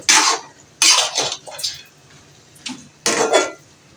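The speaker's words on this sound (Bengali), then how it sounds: "এবার নেড়ে চেড়ে দেব।" Mango garlic pickle is stirred in hot mustard oil, giving short bursts of scraping and clattering against the pot in an uneven rhythm, close and fairly loud, with quiet pauses between strokes.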